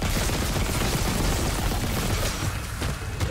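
Automatic gunfire in the video game Dead Space Remake: a dense, continuous barrage of rapid shots and booms, loud and unbroken for over three seconds.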